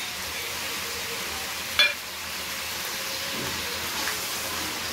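Spices and ginger paste frying in a pan, a steady soft sizzle with a brief sharp clink near the start and no talking.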